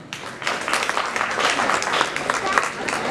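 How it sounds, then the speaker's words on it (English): Audience applause at a school open day celebration for second-standard pupils, a continuous wash of clapping from a crowd with a voice audible beneath it. "Please put your hands together for a big round of applause"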